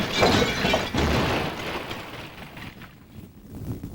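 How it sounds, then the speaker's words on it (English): A loud crash of a brick tower collapsing, with breaking, tumbling bricks and debris that rumble on and slowly fade away. "As the tower crashed to the ground, bricks and dust exploded everywhere."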